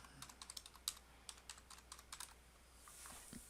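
A password typed on a computer keyboard during a Raspberry Pi lab setup, a quick string of soft, close key clicks in an uneven rhythm, ending in a faint hiss.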